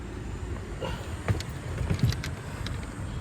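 A Kia EV9 automatic power tailgate closes with a low motor whir and a couple of soft thuds and clicks, heard close up against a quiet outdoor background.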